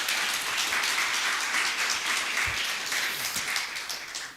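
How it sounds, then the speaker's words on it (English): Sustained audience applause at a conference keynote session, a dense, steady wash of many hands clapping that fills the room at a fairly even level and tapers slightly toward the end. "let us give a big applause to our main event"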